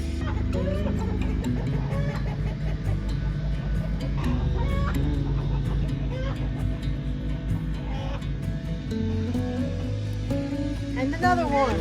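Chickens cluck and squawk repeatedly as birds are carried into a predator-proof coop, busy overlapping calls over a steady low rumble and handling noise, with people talking throughout.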